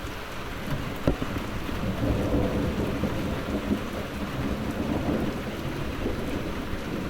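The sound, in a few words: rain during a thunderstorm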